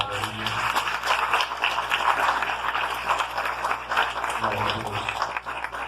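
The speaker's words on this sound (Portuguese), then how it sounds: "Vamos aplaudir o nosso Deus." A church congregation applauds in a sustained, even wash of clapping, moderately loud, with a faint voice or two mixed in.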